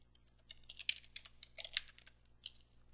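Computer keyboard typing while entering database table fields on a Linux system: a quick, uneven run of light key clicks, close and fairly quiet, with no talking.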